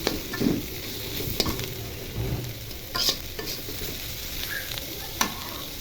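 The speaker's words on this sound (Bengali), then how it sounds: "ঢাকনা উঠিয়ে দেখি কী অবস্থা। অনেকটাই ভাজা ভাজা হয়ে গেছে।" Pointed gourd and bottle gourd peels fry in a pan and are stirred, producing a steady close sizzle with scattered scraping strokes and occasional sharp spatters, and no one speaking.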